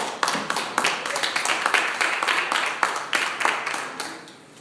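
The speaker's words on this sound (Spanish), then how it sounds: "Den un aplauso al Señor" Church congregation applauding, a dense run of overlapping claps sustained for several seconds at moderate level before tapering off at the end.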